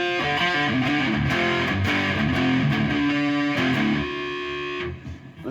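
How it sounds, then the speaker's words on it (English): Electric guitar played through a DOD Super Distortion pedal (FX55B), a loud, saturated chord riff with sustained notes, then a held ringing chord that fades out. "let's go back to the DOD super distortion here"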